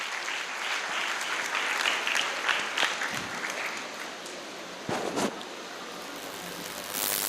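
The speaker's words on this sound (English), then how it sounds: "Let's welcome them with a huge round of applause." Audience applause welcoming students at a Guru Purnima satsang, a dense crowd clapping that holds throughout, with a few louder close claps and thumps breaking through the steady patter.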